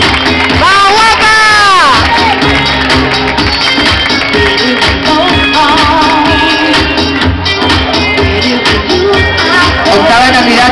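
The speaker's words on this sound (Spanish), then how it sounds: "Fuerte el aplauso para Carla Gil." Crowd at a Miss Gay Lanzarote 2011 swimwear pageant cheers and applauds a contestant, with whoops and shouts over loud music and babble throughout.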